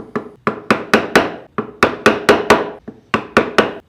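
Wooden mallet or hammer repeatedly striking a wood carving chisel driving into wood, a brisk series of about fourteen loud, sharp knocks in irregular groups, close and alone.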